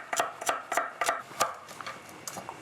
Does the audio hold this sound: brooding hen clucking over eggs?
no